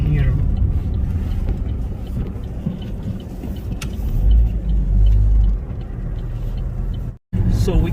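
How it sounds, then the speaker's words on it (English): A car drives along the LP2 highway on La Palma near the volcano, with a steady loud road rumble and engine drone throughout and a person talking over it, then a brief cut near the end. "So we keep driving here"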